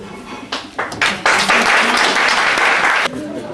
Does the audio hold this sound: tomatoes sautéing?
no